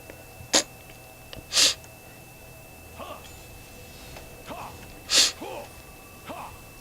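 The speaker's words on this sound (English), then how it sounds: "Sorry about the sniffles." Several sharp nasal sniffs from a person close to the mic, two louder and two fainter, spaced irregularly with softer breaths between them.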